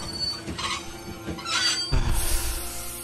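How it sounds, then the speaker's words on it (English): Game train in The Walking Dead video game braking to a halt, with a squealing rail screech building near the end over a low rumbling roll, fairly close and steady. "He stopped the train."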